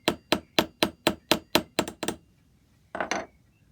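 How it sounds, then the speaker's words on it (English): Hammering rivets into brass bridges for an antique bracket clock lock: about nine sharp, evenly spaced metallic taps close by, a pause, then two quicker blows. "I've also riveted on the two bridges and the pin so that things don't move around too much"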